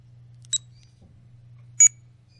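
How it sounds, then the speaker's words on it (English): Two short, high electronic beeps about a second apart from a FOFA key finder, each a single clean chirp, over a faint low hum in an otherwise quiet room. "You'll hear a beep when I press the number."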